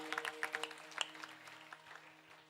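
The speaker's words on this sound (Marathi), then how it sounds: "आमच्या सर्व कलाकारांसाठी सुद्धा एकदा जोरदार टाळ्या वाजवा" Scattered clapping from an audience for performers at a temple kirtan, a quick burst of claps that fades and thins out, faint and a little distant, with a steady hum underneath.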